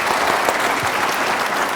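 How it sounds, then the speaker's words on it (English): Audience applause at a conference on electrifying UK freight, a steady continuous clapping from a crowd, moderately loud and sustained throughout with no talk over it. "Can we give a big round of applause, please, for Nicholas and Roger?"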